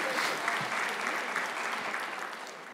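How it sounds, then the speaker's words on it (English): A crowd at a college graduation ceremony claps continuously in steady, even applause throughout, with a faint voice or two underneath. "Round of applause for the pharmacy technicians"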